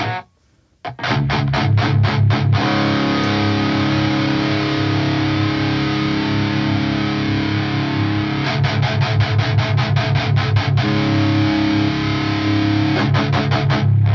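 An electric guitar plays heavily distorted chords through a Neural DSP Quad Cortex rock reverb, with rapid strummed bursts at the start and middle and a long ringing wash between.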